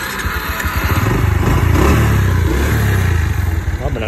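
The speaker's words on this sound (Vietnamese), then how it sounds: "bây giờ mình sẽ đề cho anh em coi" A motorbike with a broken fuse wire is started by the roadside, its engine catching and running in a loud, close, pulsing idle with a slight rev.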